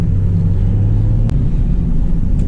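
A cammed 2006 Mustang GT with Pypes longtube headers rumbles loudly, a deep, lumpy idle throb held close and steady with a slight wavering pulse.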